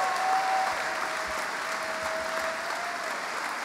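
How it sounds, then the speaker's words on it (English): Audience applause at a Cardinals Hall of Fame induction ceremony, a dense, sustained wash of clapping from a large crowd throughout, fairly loud with no talking over it. "get a round of applause for all these amazing people"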